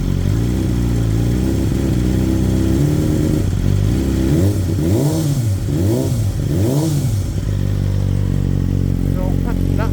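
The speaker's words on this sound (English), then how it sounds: "I'll do an exhaust video, just a sound video, but this just gives you a sense of" A BMW M1000XR motorcycle fitted with Akrapovic titanium headers idles loudly up close, then blips through several quick revs that rise and fall before settling back to a rumbling idle, with a faint voice now and then.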